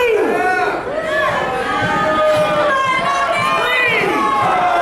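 Crowd noise at a TWF wrestling show, loud and continuous, with shouting voices rising and falling as they egg on a wrestler who is down, blended with announcer commentary.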